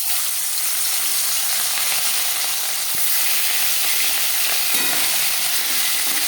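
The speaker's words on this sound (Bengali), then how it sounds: "মাছ ভেজে নেব" Parshe fish coated in salt and turmeric fries in hot oil, giving a steady, close, crackling sizzle that runs throughout with occasional small pops.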